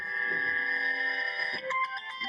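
A mobile phone ringtone plays steadily and fairly loud in a classroom, a sustained electronic melody with bright tones that shifts into a choppier pattern near the end, with no talk over it.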